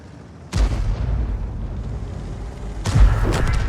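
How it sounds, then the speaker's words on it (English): In a tank battle video game, two heavy cannon booms ring out a couple of seconds apart, each a sharp loud blast followed by a rumbling tail under steady engine and battle noise. "And there's the kill shot that wins the game."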